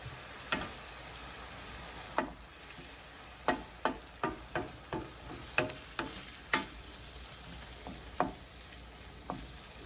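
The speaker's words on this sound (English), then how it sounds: "And now 2 ounces of my Merlot," A pan sizzles steadily as Merlot red wine deglazes concentrated mushrooms for a schnitzel mushroom sauce, with a continuous frying hiss broken by repeated sharp ticks and clinks of stirring against the pan.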